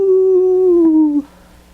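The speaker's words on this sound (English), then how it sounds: "when you push his chest, he howls like a wolf" A werewolf toy lets out a single loud, sustained electronic wolf howl that slowly drops in pitch over about a second before cutting off abruptly, leaving quiet background.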